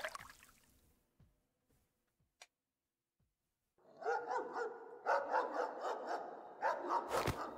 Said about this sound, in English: That's a dog.